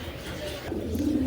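Pigeons coo softly and close by in a low, throaty burble, a pair of good-sized birds kept for breeding, with a faint voice in the background.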